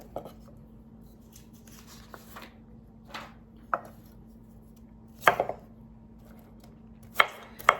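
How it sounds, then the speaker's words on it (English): Vegetables chopped by hand with a knife on a cutting board during plant-based meal prep, a few sharp irregular knife taps, fairly close, over a quiet room hum. "got started talking and I slowed down on my chopping"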